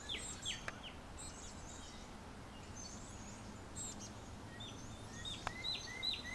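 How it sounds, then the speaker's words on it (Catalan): Several birds chirp and trill faintly outdoors in short scattered calls, heard at a distance over a steady low background hum. "Jo en sento molts d'ocells."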